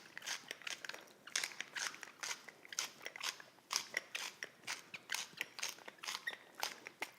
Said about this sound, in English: And some freshly cracked black pepper. And I think about 20 turns is perfect.